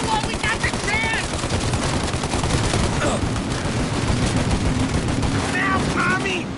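Heavy gunfire rings out in a shootout in Mafia Definitive Edition, with dense, overlapping bursts of shots from several guns sounding loud and close throughout, while voices shout briefly in between.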